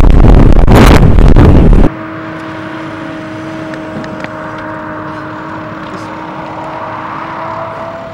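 A car passes on a quiet rural road: a loud, broad rush close by for about two seconds, then it cuts off, leaving a steady low engine hum and faint background noise.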